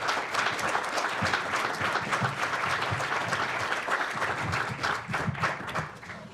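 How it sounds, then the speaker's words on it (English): Audience applause for the county board at a bowling hall of fame ceremony, dense steady clapping from a sizable crowd filling the room and tapering slightly at the end. "Please give them a round of applause."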